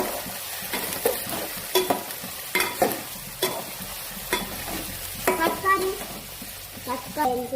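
Chopped onions frying and being stirred in a hot pan while cooking at home, a steady sizzle broken by repeated scraping and clanking strokes of a spoon against the pan.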